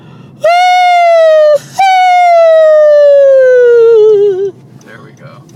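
A voice imitates the horn of an F7 or F3 diesel locomotive on the Erie Lackawanna Railroad, giving two loud sustained wails. The first is short, the second longer and sliding slowly downward in pitch.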